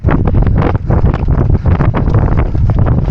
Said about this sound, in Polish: teraz słyszycie, jak wieje wiatr